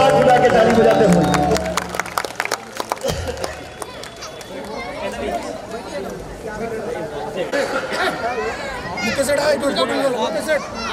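A Mata ki Chowki devotional gathering with loud crowd chatter and audience clapping that swells and carries on for several seconds, voices mixed throughout.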